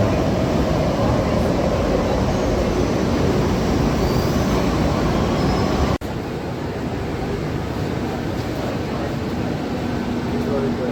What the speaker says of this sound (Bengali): এটা হচ্ছে ব্লু লাইনের ট্রেন।